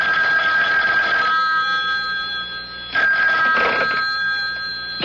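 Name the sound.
telephone ringing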